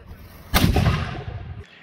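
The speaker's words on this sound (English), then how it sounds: "this is what a swivel gun sounds like going off" Historic swivel gun fired at a fort historical site, a single loud close boom with a sharp crack followed by a rolling echoing tail that fades over about a second.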